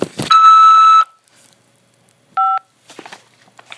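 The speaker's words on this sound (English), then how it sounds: "After the beep, press 5 to accept this call." A prison phone call system gives a clear electronic tone of about three-quarters of a second. After a short pause comes a second, briefer two-tone beep, followed by faint rustling in a quiet room.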